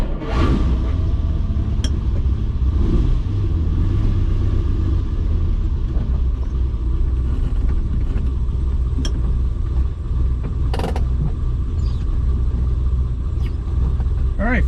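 A Ferrari 330GTC with freshly refitted carburetors runs steadily nearby, a deep continuous engine rumble that holds throughout with brief higher bursts, and a voice speaks faintly now and then.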